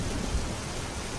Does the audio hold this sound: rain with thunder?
yes